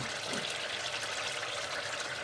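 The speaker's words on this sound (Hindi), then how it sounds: "थोड़ा सा पानी डाल के इसको भूनेंगे" Water is poured into frying masala of salt and ginger powder for a whole green mung bean curry, a soft continuous hiss and trickle with no talk.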